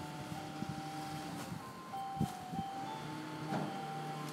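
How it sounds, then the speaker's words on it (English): A Japanese garbage truck playing an ice-cream-truck-style jingle, a thin melodic tune heard from a distance over steady outdoor ambience and a few soft thumps. "it sounds like an ice cream truck. I'm gonna show you what it really is."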